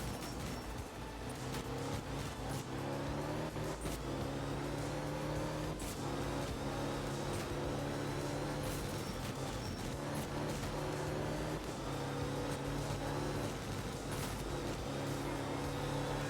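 A rally car engine in Art of Rally drones and revs steadily through a stage, its pitch rising and falling with throttle and gear changes. Sharp clicks and knocks punctuate the sound, which stays loud and close with no talk over it.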